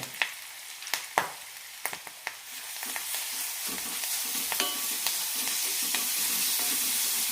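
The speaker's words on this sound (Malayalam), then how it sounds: "ഈ മസാല നന്നായി റോസ്റ്റായി കിട്ടണം. 1 മിനിറ്റ് നന്നായി റോസ്റ്റ് ചെയ്തെടുക്കാം." Crushed masala with curry leaves and asafoetida roasting in coconut oil in a kadai: a few sharp stirring scrapes at first, then a steady, close, bright sizzle that builds and holds.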